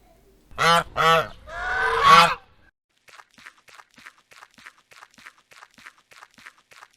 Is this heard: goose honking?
yes